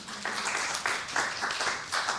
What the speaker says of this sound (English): You got applause?